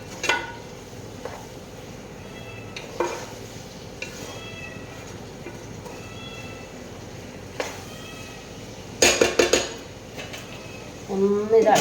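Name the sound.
stirring avial in a pot and covering it with a lid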